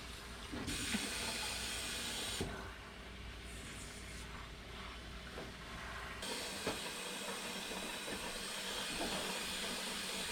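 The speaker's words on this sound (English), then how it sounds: "This one we're gonna want to rinse out from the inside out." Water from a tap hisses steadily onto a UNI foam air filter being rinsed, close and constant, with the spray changing tone as the filter is moved under it; no one speaks.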